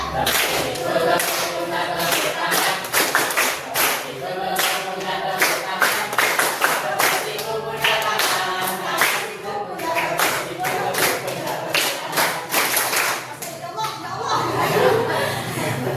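A class of students claps together in quick rhythmic bursts, sharp hand slaps repeating in fast runs across the whole stretch, with giggles, laughter and chatter mixed in.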